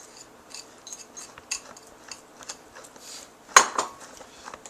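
Spinach being stirred into an artichoke dip in a bowl, with a series of soft scraping and clinking utensil sounds at an irregular rhythm and one sharper knock near the end.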